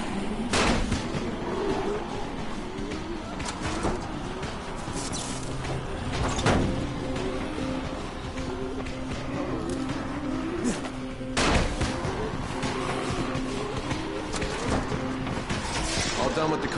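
Firecrackers bursting in the zombie game Dying Light, a series of sharp cracks scattered over a noisy, busy game soundscape with voices talking.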